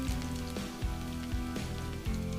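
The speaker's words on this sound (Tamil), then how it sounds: "கொஞ்சமாக எடுத்து வச்சுருக்க பூண்டு கட் பண்ணி போட்டுக்கலாம்." Chopped garlic dropped into hot oil for a spicy Tamil vendakkai kara kuzhambu, giving a steady, dense crackling sizzle with small pops throughout, close and fairly loud with no talking.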